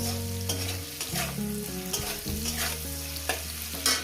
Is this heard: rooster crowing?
no